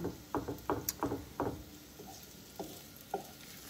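Shrimp and mushrooms cooking in a pan for a Filipino breakfast: a quick run of close utensil knocks and stirring scrapes against the pan, then softer scattered taps over a faint sizzle, with no talk.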